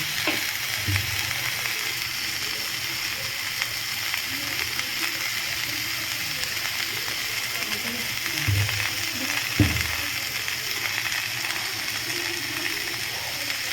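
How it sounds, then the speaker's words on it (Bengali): Pumpkin, pointed gourd and drumstick pieces fry in a pan with a steady, moderate sizzle, punctuated by a few dull knocks and scrapes as they are stirred, without speech. "এটাকে আমি একটু কিছুক্ষণ নাড়িয়ে নিচ্ছি, একটু ভাজা হবে।"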